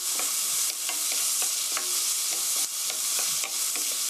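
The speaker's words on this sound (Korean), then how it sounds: "깨 볶아주세요." Onion, garlic, carrot and sesame stir-fried in a hot pan for a tofu steak dish: a steady, close sizzle broken by regular scraping strokes of a utensil against the pan, with no talking.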